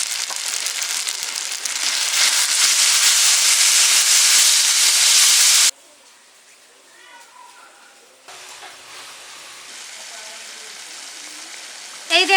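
Spice paste loudly hissing and sizzling in hot oil for several seconds while potol dolma is cooked, then cutting off abruptly into quieter background with faint voices.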